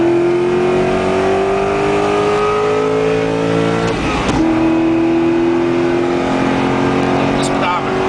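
A supercharged Corvette running on 87-octane fuel pulls hard through the gears, its engine tone climbing steadily, dipping briefly at a shift, then rising again, loud and close throughout.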